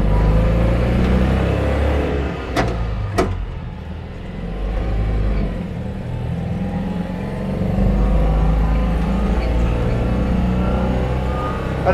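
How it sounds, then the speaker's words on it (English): A British-built 1955 Citroen 2CV with a 425cc engine pulls away and accelerates, a low buzzing engine rumble that rises and holds steady, with a couple of sharp clicks early on. "And it sounds just like my 2CV, it's just an awful lot slower."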